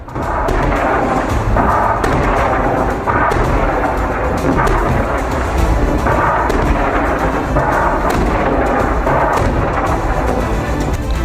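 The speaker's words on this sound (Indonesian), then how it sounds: "Serangan roket dan peluru artileri Hizbullah menyasar konsentrasi pasukan Israel." Hezbollah rocket and artillery shell fire in southern Lebanon war footage, a loud, unbroken barrage of deep booming rumbles and blasts overlapping without pause throughout, with no voices.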